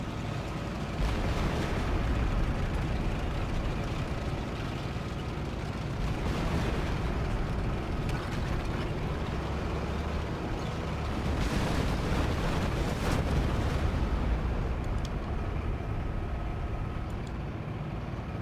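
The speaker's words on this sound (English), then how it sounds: "Oh boy, that artillery's a little scary." Artillery fire in a War Thunder tank battle, a continuous heavy rumble with repeated muffled booming swells rising and falling, plus engine-like drone throughout.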